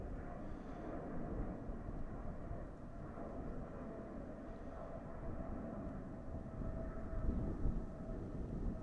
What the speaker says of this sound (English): There is the Emirates 777 I just mentioned, departing from the Zwanenburgbaan,